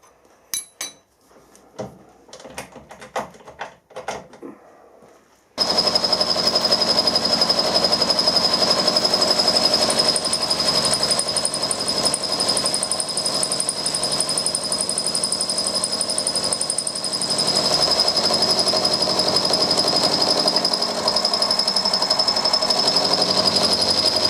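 Small lightweight SNNC 250 machine cutting a clamped turbocharger housing: a few seconds of quiet clatter and knocks, then a loud, steady grinding cutting roar with a high whine that continues to the end.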